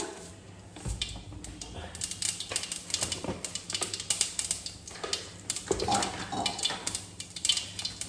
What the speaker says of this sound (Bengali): হাফ টিস্পুন মতো আমি সর্ষে ফোড়ন দিলাম